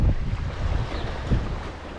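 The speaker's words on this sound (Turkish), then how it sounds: "çok rüzgar var" Strong wind by the sea buffets the microphone in a continuous low rumble, gusting slightly louder at moments, with no voices.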